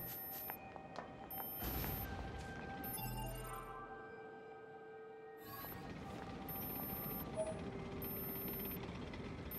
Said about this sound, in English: there's like a high-pitched beeping in this area. And I hate it.